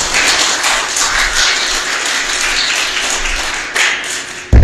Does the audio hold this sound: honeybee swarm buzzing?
no